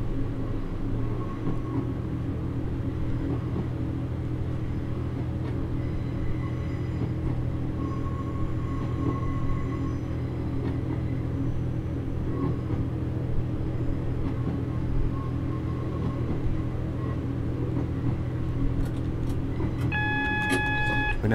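Train running on the Looe Valley Line in a train simulator game, a steady loud engine drone and rolling rumble under power, with a few faint beeps near the end and no speech.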